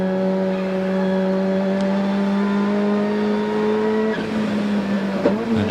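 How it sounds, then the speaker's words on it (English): A touring race car at race speed in the 1991 Bathurst 1000 gives a steady, sustained engine drone at constant pitch, with a brief shift or dip near the end. "by the looks of it, up to race speed, the engine sounds sweet"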